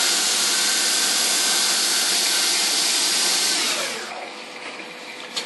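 A CNC mill whines and roars steadily as it machines excess material off the top of an FX-4WD top arm, then the harsh cutting noise drops away to a quieter machine hum.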